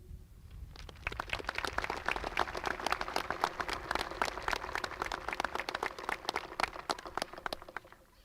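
Audience at a Class of 2025 high school graduation ceremony breaks into sustained applause, dense overlapping claps building after a second and holding steady before tapering at the end, heard from within the hall.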